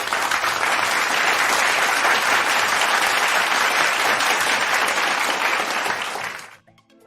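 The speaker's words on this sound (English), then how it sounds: "let me go ahead and show my appreciation by giving you a round of applause" An audience breaks into a round of applause for Robert: loud, continuous clapping that holds steady for several seconds before quickly fading out.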